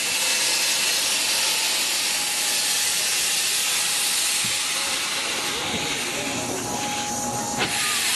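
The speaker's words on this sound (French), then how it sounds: "À l'arrivée au terminus, la locomotive est détachée du convoi." Steam locomotive of the Three Valleys heritage railway at a terminus, loud continuous steam hiss with engine rumble, metallic clanks and a squeal late on as it is uncoupled from the train.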